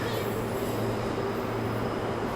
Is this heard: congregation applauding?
no